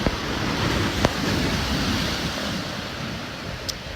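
Surf from the Hurricane Dorian storm surge rolls onto the beach at St. Simons by the King and Prince resort, a broad steady wash of waves mixed with wind buffeting the microphone, and a couple of brief sharp pops.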